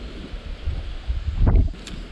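Wind gusting outdoors while fishing, a steady low rumble of wind noise against the microphone that swells to a stronger buffet near the middle before easing off.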